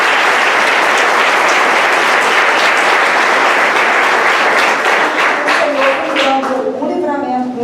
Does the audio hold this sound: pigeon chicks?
no